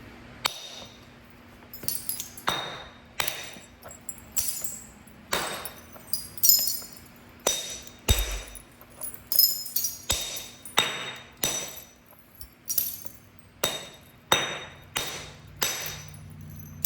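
Flintknapping a stone point, with a long series of sharp, ringing clicks and taps as flakes are struck off, arriving in irregular clusters roughly every second, close and fairly loud with no voices.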